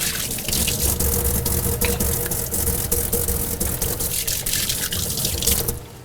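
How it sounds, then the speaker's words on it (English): Hands are washed under a running kitchen tap: a steady, close rush of water splashing into the sink that lasts about six seconds and then drops away abruptly at the end. "Washing my hands."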